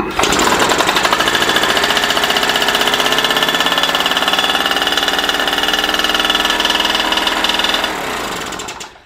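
A Solex moped's small engine catches almost at once and runs at a fast, steady, rattling idle, loud and close, before winding down at the end.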